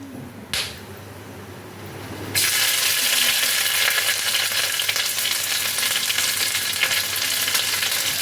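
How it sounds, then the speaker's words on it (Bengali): Chopped ginger dropped into hot oil for a Bengali bhuna khichuri bursts into a loud, steady sizzle after a brief quieter moment, and the frying continues evenly and close by. "আদাটাকে তেলের মধ্যে খানিকক্ষণ ফ্রাই করে নেব, যতক্ষণ না আদার কাঁচা গন্ধটা চলে যায়"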